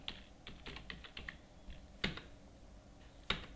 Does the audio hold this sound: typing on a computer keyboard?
yes